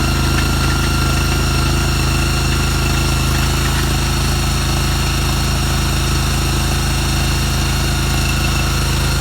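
A Jake Mule utility vehicle's engine runs steadily and loud throughout, a constant close mechanical drone with a low hum, while the machine is driven, lifting its forks, with no talk.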